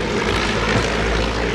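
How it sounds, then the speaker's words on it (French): Stampe SV4, a Belgian propeller training biplane designed in the early 1930s, its engine droning steadily and loudly for the whole stretch, alone with no voices. "SV4, avion d'entraînement pensé par 2 ingénieurs au tout début des années 30, Jean Stamp et Maurice Vertonghen"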